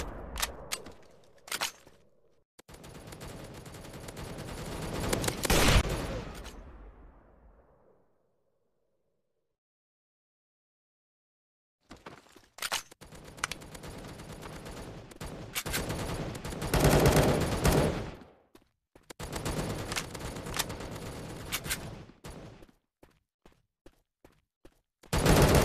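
Gunshots from the mobile shooter MaskGun crack out in dense, rapid bursts, loud and punchy, broken by a stretch of near silence and then resuming in further clustered volleys with a final sharp shot.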